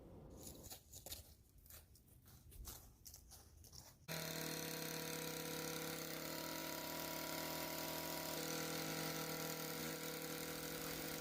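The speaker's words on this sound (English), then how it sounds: "While Jason's cutting the grass" A lawn mower cutting homestead grass before winter, starting up after about four seconds of quieter outdoor sound and then running as a loud, steady, close engine drone to the end.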